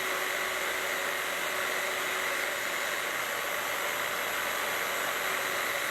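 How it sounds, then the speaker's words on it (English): A small belt sander runs steadily while grinding a knife blade, producing a loud, unbroken whirring hiss with a constant hum that holds without pause and with no talk. "Decided to start using the smaller belt sander."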